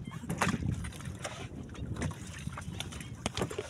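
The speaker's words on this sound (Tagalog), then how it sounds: "Sakay na tayo sa bangka." Water sloshes and splashes around a small boat during a ride, with gusty wind noise and scattered knocks, fairly close to the microphone.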